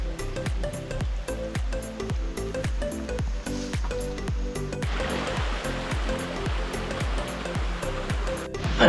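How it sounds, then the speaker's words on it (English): Steady broadband rush of a small jungle stream winding down toward the ocean on a Rarotonga walking track, continuous and fairly close, with a faint rhythmic tapping underneath. "The later section of this track follows a lovely little jungle stream that winds its way down towards the ocean"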